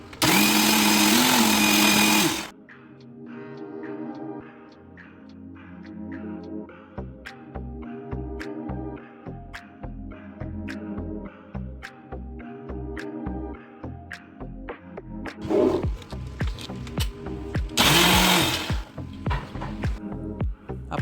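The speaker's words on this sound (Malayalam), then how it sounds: "പാലും അബിയും ക്യൂബ്സായിട്ട് കട്ട് ചെയ്തതും പിന്നെ ഒരു 3 ടേബിൾ സ്പൂൺ പഞ്ചസാരയും മിക്സിയിലിട്ടിട്ട് ഒന്ന് അടിച്ചെടുക്കണം" Mixer grinder blending milk, cubed abiu fruit and sugar: a loud motor roar opens and returns near the end, with bursts of whirring, rattling and knocking pulses between, close up and without talk.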